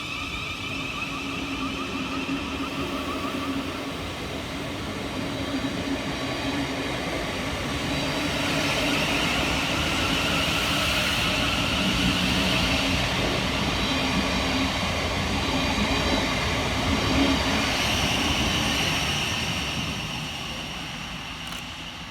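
A pair of Southeastern Class 707 electric trains, 707 001 and 707 013, departs on the Hayes line on the 18:57 service from London Charing Cross to Hayes. A steady broadband rumble swells over about twenty seconds and then eases away, with no voices.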